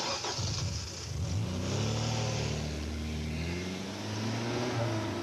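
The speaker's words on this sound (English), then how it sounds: "The CRX HF from Honda" A Honda CRX HF's engine revs up and climbs in pitch, rising and falling across several seconds, close and loud with no talking.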